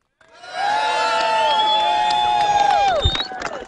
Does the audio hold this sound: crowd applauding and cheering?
yes